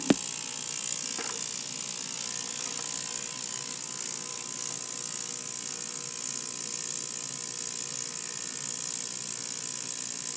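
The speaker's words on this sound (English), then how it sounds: "put it in the ultrasonic cleaner, and hit the button and let it run" An ultrasonic cleaner runs with a fountain pen nib housing inside, a steady, close buzzing drone with a constant high-pitched whine, unbroken from start to finish after a single click at the start.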